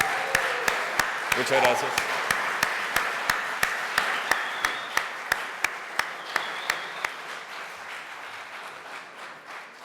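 Crisp, evenly spaced claps ring out from an audience at the opening of a Global Game Jam and gradually taper off, while a voice speaks briefly near the start.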